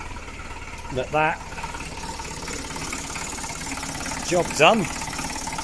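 Citroen/Peugeot XUD diesel engine idling just after a cambelt change, a steady low mechanical hum running throughout beneath a voice speaking briefly twice.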